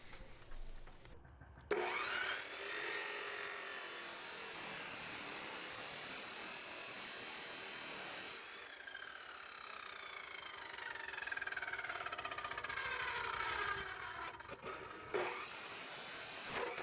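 An abrasive chop saw fitted with a new blade cuts through metal, giving a loud sustained high-pitched grinding whine that dips briefly in the middle, then resumes and ends with a short final burst.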